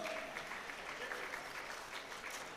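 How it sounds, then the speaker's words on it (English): An audience at a mineral summit and exhibition applauds steadily and moderately loud for a few seconds, with no voices over it. "A round of applause for her, please."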